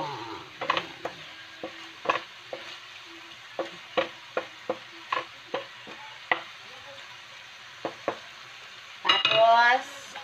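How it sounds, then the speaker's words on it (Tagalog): A utensil scrapes and clacks against a pan while vegetables with a little meat sizzle, giving a steady series of sharp stirring knocks over a soft frying hiss, ending in a louder scraping burst. "Kaya haluin ng haluin."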